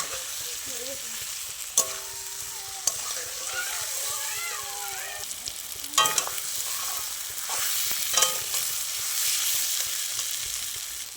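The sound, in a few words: potatoes being stirred and sautéed in oil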